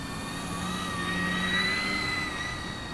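Twin electric motors of an E-Flite Beechcraft D18 1.5m model airplane whine steadily in flight, a sustained high tone that swells slightly as the plane passes, with no talking.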